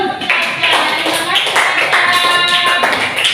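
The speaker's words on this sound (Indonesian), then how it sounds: "Tepuk tangan dulu." A classroom of pupils claps hands together in a steady burst of many overlapping claps, close and lively, with children's voices mixed in throughout.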